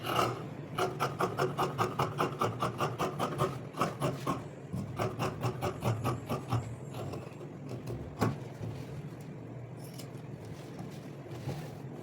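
Scissors cut through fabric for a bubu dress with rhythmic, close raspy snips in quick repeated bursts, then slower scattered cuts fading quieter toward the end.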